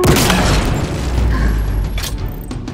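Relays being destroyed in Halo Infinite, a sustained loud booming, mechanical rumble with a few bursts layered over it, steady throughout.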